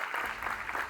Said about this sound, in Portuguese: Salva de palmas, presidente Sica, por isso.